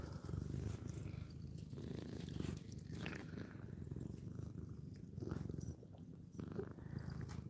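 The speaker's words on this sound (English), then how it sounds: "It's one of my favorite sounds in the world is listening to them purr." A domestic cat purrs steadily up close, a soft rhythmic rumbling that rises and falls with each breath, with no other sounds around it.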